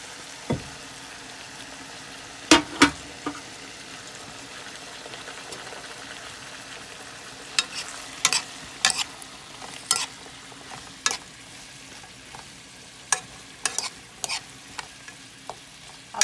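Cut chicken pieces sizzle steadily in a pot while a utensil stirs them, with sharp metallic clinks and scrapes at irregular intervals over the constant frying hiss, close and clear.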